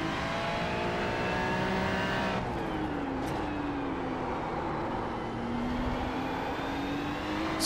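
A Ferrari 296 GT race car engine in iRacing at Interlagos whines and shifts through gears, pitch sweeping down then climbing steadily, loud and continuous with no talk.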